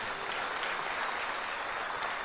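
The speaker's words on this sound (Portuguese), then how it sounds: "Vamos aplaudir esse Jesus." A church congregation applauds during a Pentecostal-style sermon, a steady, even wash of many hands clapping with no voices, heard from a distance at moderate level.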